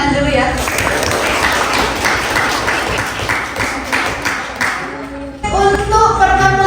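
A class claps in a short burst of applause that fills the room for several seconds. It stops suddenly, and a voice carries on speaking.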